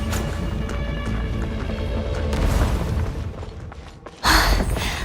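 Corruption sources are destroyed in Genshin Impact, heard as a dense rumbling game soundscape that ends in a sudden loud burst, a booming shatter near the end.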